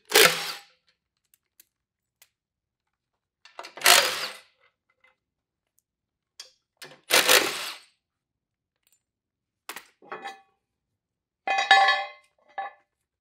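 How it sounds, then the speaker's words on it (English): A 9/16 socket wrench removes a tilt cylinder access cover in a series of separate short ratcheting bursts with silence between, close and clear, with no talk. "We're going to remove our access cover with a 9/16 socket."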